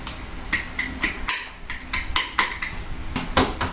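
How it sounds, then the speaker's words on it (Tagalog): Kitchen knife rapidly mincing garlic cloves on a cutting board, a quick rhythm of sharp close chops with brief pauses, loud and clear with no talk. "Itong bawang, pipinuhin ko lang to."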